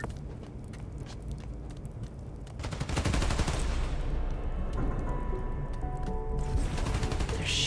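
Video game gunfire in Spider-Man Miles Morales, heard as continuous rapid shooting and crackling bursts that grow louder and denser partway through and keep going steadily to the end.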